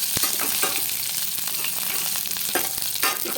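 Okra sautés in a pan with tempering, a close, steady sizzle punctuated by repeated scraping and clicking strokes of a spatula stirring.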